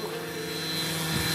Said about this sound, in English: that's when his program takes over this helicopter